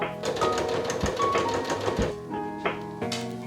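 A sewing machine stitches white bias binding along the inside edges of a garment, its fast mechanical chatter running steadily up close and pausing briefly between bursts.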